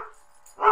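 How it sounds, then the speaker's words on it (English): A couple of short, muffled dog barks, somewhat distant, with a brief yip at the end. "I hear your dogs."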